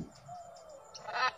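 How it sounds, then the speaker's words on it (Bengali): Macaws at Bethuadahari Wildlife Sanctuary in Nadia give a brief, faint, harsh squawk near the end over a thin background hum. "এগুলি হলো ম্যাকাও।"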